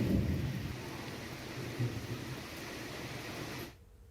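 Steady heavy rain hisses over a low thunder rumble, then cuts off abruptly near the end.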